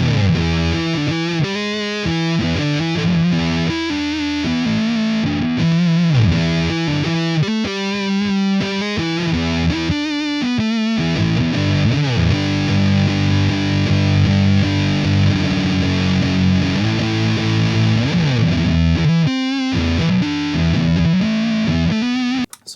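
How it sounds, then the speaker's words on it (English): Electric guitar with its tone knob rolled fully down, run through a Helix Stadium amp modeler with distortion, playing a dark, muffled riff of chugging chords and single notes, loud and continuous for over twenty seconds, with brief pauses. "I will twist the tone knob off my guitar and let's see how that sounds."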